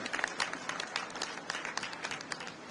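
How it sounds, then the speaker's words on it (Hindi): Crowd applause at a public benefit-distribution event in India, fairly faint and steady, a dense patter of many hands clapping with a few murmuring voices underneath. "एक बार दोनों हाथ ऊपर उठाकर तालियां बजाकर स्वागत करेंगे"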